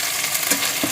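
Shrimp sizzling in a pan as it goes in, a brief loud hissing fry with a clink at the end.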